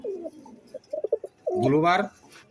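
Budapest racer pigeons coo close by, a few short soft coos followed by one longer, louder, throaty coo.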